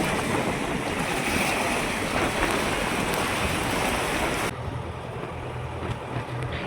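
A passenger boat crosses open sea between shores near an island village, with a loud, steady rush of waves and wind noise across the whole stretch that drops to a lower rumble near the end.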